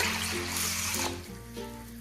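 Water is poured into a bowl of lentils and rice, running and trickling steadily, with a broad splashing hiss over a low tonal hum, easing slightly partway through.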